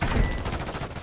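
Dense, rapid gunfire in the Rebirth Island battle royale game, a continuous volley of overlapping shots with heavy low-end thumps, loud and close throughout with no voices over it.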